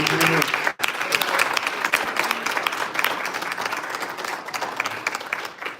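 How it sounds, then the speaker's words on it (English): Sustained audience applause for a student panel at a Black History Month event in Grande Prairie, Alberta, a full room of clapping that continues for several seconds after a brief break, with some voices in the crowd. "Can we get another round of applause for our student panel?"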